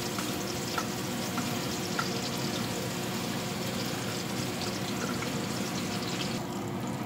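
Ginger sautés in a pan for liver bistek, giving a steady, close frying sizzle that carries on evenly with faint clinks over it.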